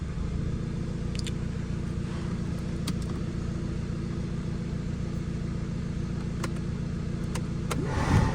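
A Hyundai car said to have a blown engine idles with the air conditioning switched on: a steady, low mechanical hum with a faint whir on top, a few light clicks, and a slight swell near the end.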